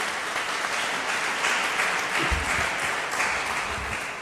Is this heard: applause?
yes